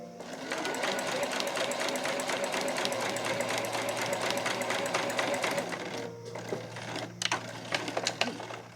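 A sewing machine stitches a satin frilled scrunchie in a fast, even run of close mechanical clicks and whirring, briefly pausing and stuttering near the end.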